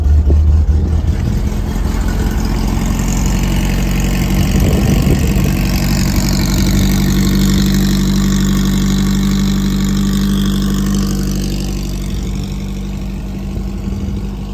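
A VW-based dune buggy built as a Camaro-style body runs with a steady, close engine idle that holds through the whole stretch, loud and uninterrupted, easing slightly toward the end.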